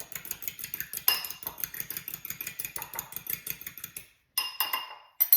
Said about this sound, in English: we are going to take 1 whole large egg. And we're gonna whisk that up a little bit.